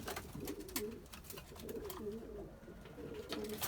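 Dönek tumbler pigeons in a loft coo in repeated, rolling low phrases, quiet and fairly close, over a faint background hiss.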